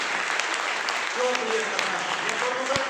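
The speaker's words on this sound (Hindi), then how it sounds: "ताली जोरदार वाली बजाइए।" Loud applause from a business seminar audience fills the room, a steady roar of clapping while a voice speaks over it.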